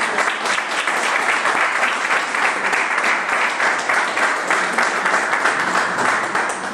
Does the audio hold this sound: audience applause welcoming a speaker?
yes